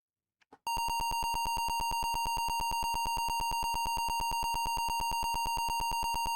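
A computer running a looping program emits a rapid, unbroken train of identical electronic beeps at a fast, steady rhythm, loud and clear, starting suddenly after a couple of faint clicks.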